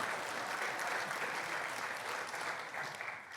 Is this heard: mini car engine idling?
no